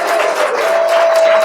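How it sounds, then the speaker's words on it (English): A book launch crowd applauds a brand new author, a dense steady wash of many hands clapping at close range, holding even and loud throughout without letup. "A big round of applause for our brand new author"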